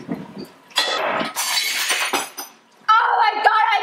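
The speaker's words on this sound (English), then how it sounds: "I just broke the glass!" A drinking glass breaks with bright crashing and shattering noise, followed by tinkling shards, close by indoors. Someone speaks excitedly around the breakage.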